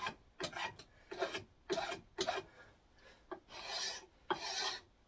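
A knife scraping down a wooden axe handle, close rasping strokes repeated in an uneven rhythm, about eight passes, each a short gritty scrape.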